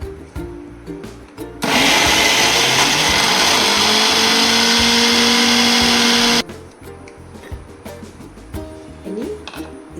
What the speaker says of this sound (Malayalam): എല്ലാം ഇതാക്കിയിട്ട് ഒന്നും കൂടി എല്ലാം മിക്സ് ചെയ്യുക. ഒന്നും കൂടി അരക്കുക.